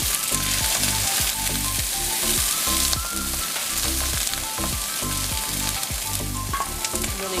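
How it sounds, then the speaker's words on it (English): Eggplant, shallots and chillies dry roasting in a lightly oiled wok over medium-high heat, a loud, constant crackling sizzle with rhythmic stirring and scraping strokes throughout. "I'm gonna dry roast some of the ingredients. We have here the eggplant, shallots, and chillies"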